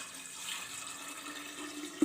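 Water is poured into a jar of black carrot kanji, a fermented drink spiced for summer, giving a steady, soft splashing stream at close range with a brief louder splash at the end.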